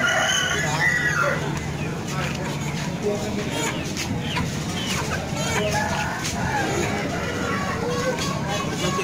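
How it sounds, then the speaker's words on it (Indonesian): Roosters crow and hens cluck loudly throughout a busy chicken market in Pasuruan, East Java, with repeated overlapping crows over a dense, constant din of fowl and people talking in the background. "Ini kunjungan di pasar ayam ini."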